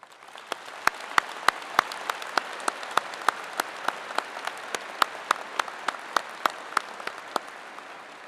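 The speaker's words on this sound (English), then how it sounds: "Please join me in congratulating them with a special round of applause." Sparse, scattered clapping from a commencement audience at a college of science graduation: a few dozen distinct, sharp claps at a loose, irregular pace over a soft crowd hush, fairly quiet and somewhat distant.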